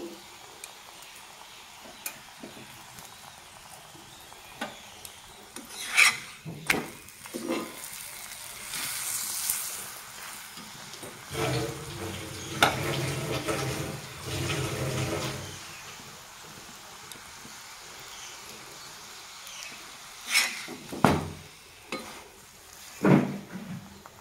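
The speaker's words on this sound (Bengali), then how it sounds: "এইভাবে আলু পরোটাগুলো আমি ভেজে নেব।" Aloo parathas fry in a pan with intermittent bursts of sizzling, mixed with scattered spatula knocks and scrapes against the pan, all fairly faint and close.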